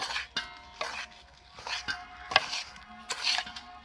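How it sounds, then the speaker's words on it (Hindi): Dry fruits being stirred into a flax seed laddu mixture, giving a string of close, sharp clatters and scrapes of a spoon against the pan at an irregular rhythm, with no talking. "अब सारे ड्राई फ्रूट इसके अंदर शामिल कर देने हैं। अब इसको अच्छे से हमने मिक्स करना है"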